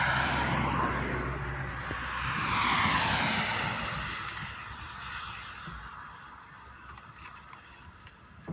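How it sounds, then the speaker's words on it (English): Road traffic passes by: one vehicle swells to a broad, rushing peak near the start and then fades slowly into a quieter hum, faint and at a distance. "there's a lot of traffic right now"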